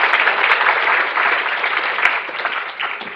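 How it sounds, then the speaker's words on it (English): Loud, dense applause from an audience at a psychology careers expo, a continuous close wash of many hands clapping that holds steady and eases only slightly toward the end. "we need to give her one big round of applause"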